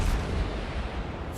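Heavy naval guns from a World of Warships battle, Hindenburg cruiser, boom in one dense, sustained roar with deep rumbling low end, loud and close, filling the whole short stretch without any talk.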